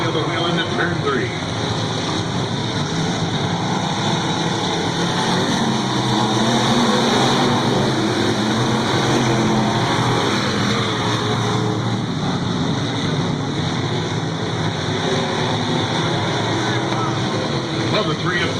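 Sport modified race cars at a dirt-track race, a dense, continuous engine roar from the pack that stays loud and steady throughout, with an announcer talking over it.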